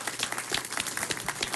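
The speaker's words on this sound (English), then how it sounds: "Let's give them a round of applause." An audience at a city council meeting claps in dense, continuous applause. The clapping is close and steady, with no voices above it.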